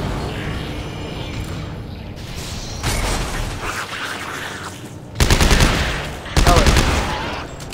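Rapid weapon fire in Dead Space 3, loud mechanical bursts of automatic shots in a few separate volleys, with clanking, ratcheting mechanisms between them and no speech.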